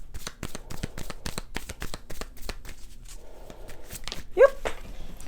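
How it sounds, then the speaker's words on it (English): Tarot cards are shuffled and pulled in a rapid run of crisp riffling snaps, then a pause and softer handling of the deck, while a dog whimpers and barks briefly in the background. "Let me just pull out more cards, and then we're going to close it off."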